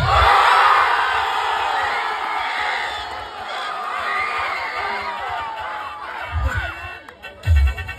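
A large crowd in Bulacan roars, shouts and cheers for a performer, a loud continuous mass of voices that eases off midway before a few heavy bursts near the end.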